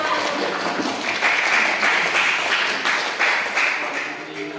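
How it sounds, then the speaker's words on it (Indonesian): Students in an online class give a round of applause, steady moderate clapping in a rhythmic pattern for several seconds, fading toward the end. "Beri tepuk tangan untuk kita semua"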